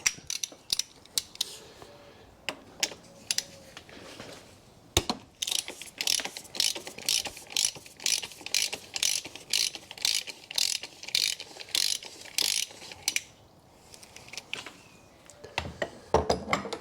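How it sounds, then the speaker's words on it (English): A ratchet on an extension bar clicks in steady rapid runs of pawl ticks with short pauses between, close and clear, while loosening the oil filter housing on a 2014 VW Passat 2.0 TDI diesel. "I just need an extension bar and a ratchet"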